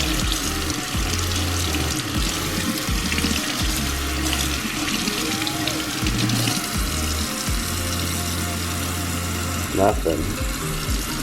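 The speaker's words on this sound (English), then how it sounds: "I want to go ahead and give her a good rinse" Water pours steadily from a sink tap over a waterproof Samsung Galaxy Note 7 phone as it is rinsed, a continuous broadband splashing rush with low hum and brief faint clatters under it.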